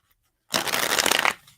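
Deck of playing cards shuffled during a tarot-style reading, a dense rapid riffling burst lasting about a second, close and fairly loud with no talk over it.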